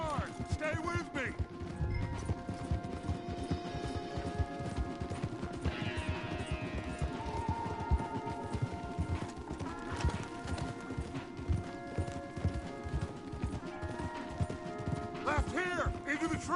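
Horses gallop hard in Red Dead Redemption 2, with steady rapid clip-clop hoofbeats running throughout, layered over a game music score and occasional crashes.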